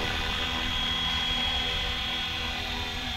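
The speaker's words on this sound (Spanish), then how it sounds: "Está increíble este helicóptero, fácil de volar." A Flywing FW450L V3 RC helicopter in flight gives a steady, loud whine and rotor drone that holds evenly throughout without pause.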